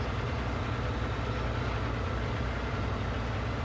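Tractor engine idling in Farming Simulator 19: a steady, low mechanical drone with an even rumble, constant and unchanging throughout, with no talk.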